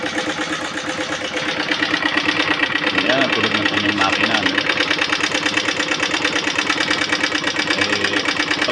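Motorcycle engine with a persistent knocking noise from the motor, a steady rhythmic ticking over running at idle, close and fairly loud throughout with no talking.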